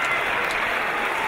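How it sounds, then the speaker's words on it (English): Crowd at a British professional wrestling match applauding in a dense, steady wash of clapping, close and continuous throughout. "I'm going to applaud that one."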